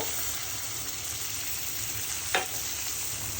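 Broth poured into a pan of sizzling beef and cabbage curry, a steady frying hiss with a brief splash of liquid near the end, close and alone.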